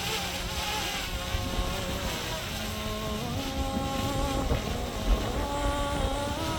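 A drone flying in strong wind outdoors, its rotors giving a steady high buzzing whine with shifting pitch, heard close over gusty wind noise with no one talking.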